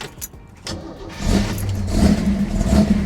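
A cold 1968 Chevrolet Camaro RS/SS big block V8 on a roughly 30-degree day cranks briefly, then catches and settles into a loud, rumbling idle close by.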